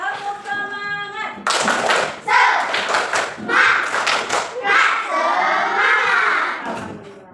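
A classroom of children claps together in a quick rhythmic pattern at the start of a lesson, their voices chanting and shouting along at close range.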